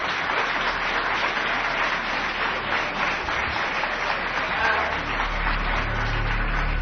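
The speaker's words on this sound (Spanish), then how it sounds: "Escuchamos por ahí aplausos de nuevo" A crowd gathered in Bélmez on a winter day claps in a long, steady burst of applause, a continuous mass of hands heard at a moderate distance, with a low rumble rising near the end.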